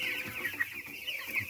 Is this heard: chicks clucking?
yes